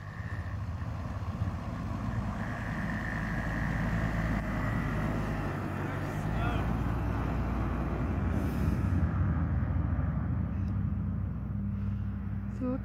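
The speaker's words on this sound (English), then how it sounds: "Another one's driving in the fresh snow." A car without snow chains drives uphill through fresh snow, its engine droning steadily with a low, continuous rumble and tyre noise at moderate distance. The sound holds level throughout and carries no speech.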